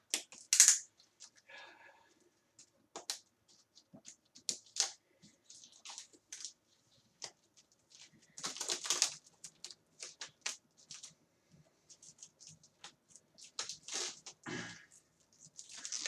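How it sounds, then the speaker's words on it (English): Shrink wrap being peeled off a Beatles 50th anniversary box set, with sparse crinkles, crackles and tearing bursts up close, scattered across a quiet room and separated by pauses. "gotta break the shrink wrap off of here without damaging anything"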